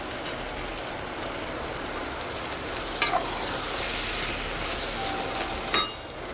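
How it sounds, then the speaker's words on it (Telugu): Soaked rice for old-style biryani is stirred and fried in a pan, giving a continuous close sizzling hiss with a few sharp clinks of a spoon against the pan. Nobody speaks. "నీట్గా అలాగా కలుపుకుని ఒకసారి వేగనివ్వాలి"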